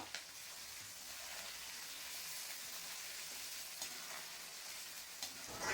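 Finely chopped onions frying in a pan with asafoetida for bread upma, a steady soft sizzle with occasional stirring scrapes, faint and close, no voices.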